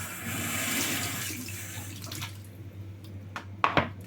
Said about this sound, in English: So you've got to give it a brief rinse first, and also the blade as well.